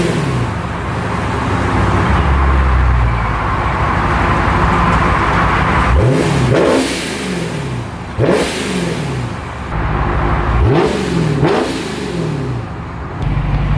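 A Procharged Dodge Scat Pack's engine revs repeatedly, loud and close, each blip rising sharply from a rumbling idle and falling back, with supercharger whine riding over the deep exhaust.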